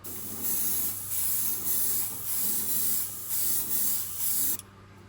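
Liquid chrome paint hisses from a spray can in a light coat, a series of close, steady bursts about a second long with short gaps between, ending abruptly; no talking.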